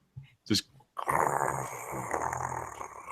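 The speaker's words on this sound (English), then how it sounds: "just this horrible growl." Deep, rough monster growl for a tabletop role-play scene, a short guttural burst followed by a sustained, harsh rumbling snarl that fills the space loudly.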